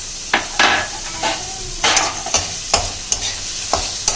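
Vegetable cutlet mixture frying in a pan of oil, a continuous hiss broken by repeated sharp spatula scrapes and clinks at an uneven rhythm, loud and close, with no voices.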